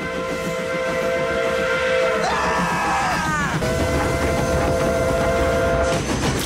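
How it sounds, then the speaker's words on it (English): A cartoon steam train whistle blows in long harmonic tones, first a sustained blast that bends and wavers, then a second steady blast, with hissing steam and rumbling rail noise underneath throughout. "Train!"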